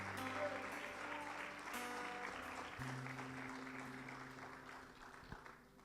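A church congregation applauding, a sustained wash of clapping that carries steadily and fades slightly toward the end, with a voice and some sustained musical tones underneath.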